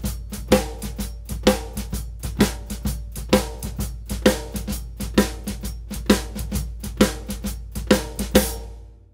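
Drum kit shuffle with bass drum, snare and cymbal struck together in unison, accents landing on beats 2 and 4; a steady, loud, evenly repeating pattern heard alone, ringing off at the end.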